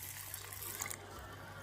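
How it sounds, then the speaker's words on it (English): Small container of water poured into a cooking pot while making TVP biryani on a hiking stove, a faint steady trickle and splash lasting under two seconds over low background hum. "And then I'm using this much water, which is a small container from the pot set,"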